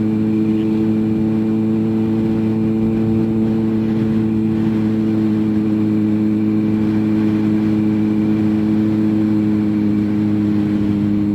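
A motorcycle engine running steadily while riding on the road during a lesson, a loud, constant droning hum with a stable pitch and no voices.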